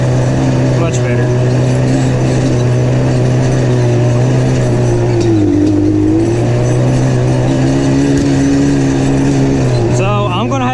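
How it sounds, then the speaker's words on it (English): Two-stroke Yamaha Banshee quad engine droning steadily while trail riding at night with headlights on, a continuous loud buzzing hum that dips and rises slightly in pitch, with a rider talking over it. "So this will be my first time trail riding a Banshee"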